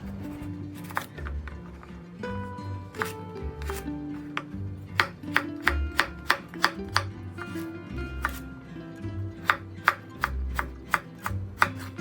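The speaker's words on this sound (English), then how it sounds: "we're going to cut the carrots and potatoes into cubes" A knife chops carrots and potatoes into cubes on a cutting board, giving a run of sharp, close, rhythmic knocks that grow quicker and more regular toward the end.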